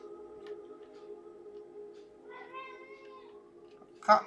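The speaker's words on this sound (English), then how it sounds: "Cat's freaking out again." An agitated cat meows several times indoors, the calls fairly faint and close with a sharper cry at the end, over a steady low background hum.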